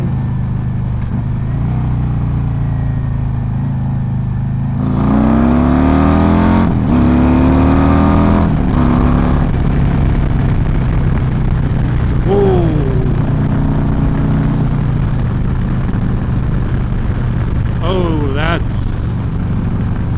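A 2024 Harley-Davidson Road Glide with a Screamin' Eagle 131 Stage 4 engine idles, then revs hard and accelerates with rising, falling pitch sweeps, later giving a few shorter throttle blips; a voice speaks briefly over it.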